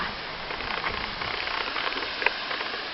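Steady broadband rush of the Jok Kradin waterfall in Thong Pha Phum National Park, a small mineral-water fall flowing from rocks between mountains, heard as a continuous hiss with faint patter and no talking.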